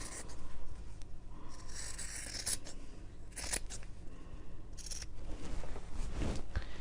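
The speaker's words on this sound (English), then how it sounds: "trim this section back to that sewn line 1/4 of an inch away from that sewn line" Fabric seam allowance is trimmed for a quilted cushion cover: several crisp scissor snips and rustling fabric sounds occur close by at irregular intervals, with no talking.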